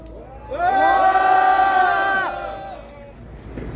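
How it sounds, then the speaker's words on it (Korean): An audience at an indoor lecture gives a loud, rising group shout of cheering that swells for about two seconds and then fades into murmuring and scattered voices. "자, 함성도 한번 질러보겠습니다"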